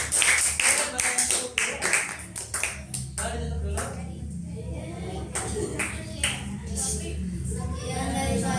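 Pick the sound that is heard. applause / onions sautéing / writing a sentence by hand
applause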